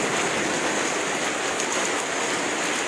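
Heavy rain pouring steadily during a thunderstorm with lightning, a dense continuous hiss of falling water, loud and close, with no talk over it.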